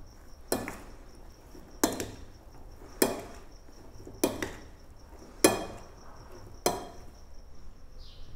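A rice salad with spices and olive oil being stirred in a bowl, six separate scraping knocks of a utensil at roughly even intervals over a faint steady background hiss, close and fairly clear with no talk.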